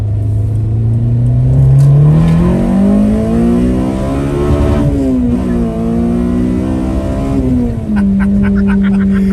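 A Honda Civic sleeper with a K-swap engine pulling hard on a hot track, heard from inside as the engine note climbs steadily through the revs, drops briefly at a shift, then climbs again, loud and close throughout.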